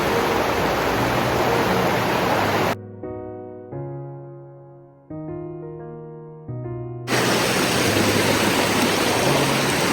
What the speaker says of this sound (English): Gorgeous creek though.